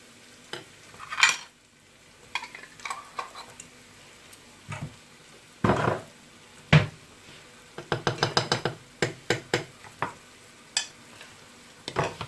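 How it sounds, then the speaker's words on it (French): Spoon stirring a honey mixture in a metal pan on the heat to keep it from caramelizing, with intermittent scraping clicks and taps, bursts clustering into a rapid run of strokes, close and fairly quiet. "Et je continue à mélanger pour qu'il ne se caramélise pas"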